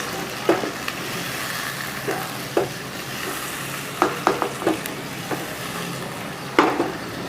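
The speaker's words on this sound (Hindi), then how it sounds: "और यहाँ पे मैंने 1 कप दही लिया है, इसे भी डाल दूंगी। मिक्स कर लेंगे अच्छे से।" A spoon stirs a cup of yogurt into curry cooking in a pan, with a steady low sizzle beneath and a handful of sharp, close clinks and scrapes of the spoon against the pot at irregular intervals.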